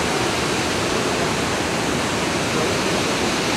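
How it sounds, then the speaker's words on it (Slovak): Iguazu Falls roaring up close, a loud, unbroken wall of rushing water with steady broadband noise and no pauses, while spray falls nearby. "Normálne na nás začala striekať voda, ak sme blízko tých vodopádov"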